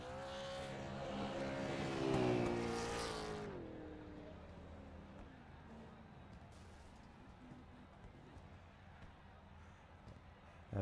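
A short-track stock car does a burnout on the front stretch with a loud, rising engine roar that cuts off sharply after a few seconds, leaving faint distant engine noise and crowd ambience.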